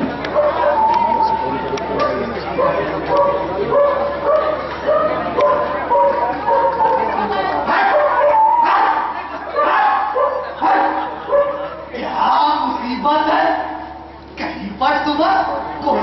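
Dogs barking and yipping in a noisy outdoor scene, repeated uneven barks at moderate distance mixed with chatter and voices throughout.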